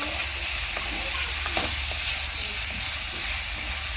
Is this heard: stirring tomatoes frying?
yes